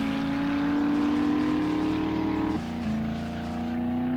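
A car driven in the survival video game 7 Days to Die, handling like an old Mustang, gives a steady loud engine drone that drops in pitch partway through as if shifting, with no talk over it.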